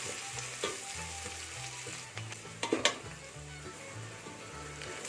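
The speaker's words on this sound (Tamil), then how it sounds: "வெங்காயம் நல்லா வதங்கணும், அந்த அளவுக்கு நல்லா வதக்கிக்கலாம்." Onions sautéing in a pan for mutton biryani, a steady close sizzle and fry hiss with occasional spatula scrapes and stirring knocks, no voices.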